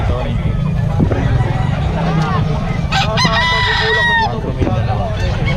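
Rooster crowing at a busy Bocaue flea market, a few loud harmonic crows over dense crowd babble, with a car audible and people talking nearby.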